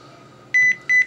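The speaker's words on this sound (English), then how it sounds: "oh, that's a phone call." Electronic phone beeps sound over a low background hum: two loud, sustained tonal beeps in quick succession, each lasting about a fifth of a second, with no talking.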